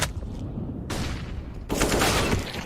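Desert Eagle pistol fire in a professional Counter-Strike match, heard as loud, close bursts of shots in two clusters, with no commentary over them.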